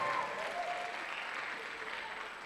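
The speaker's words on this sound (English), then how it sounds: "Please give them a round of applause." Audience at a university debate championship breaks into sustained applause, an even wash of many hands clapping at moderate distance throughout.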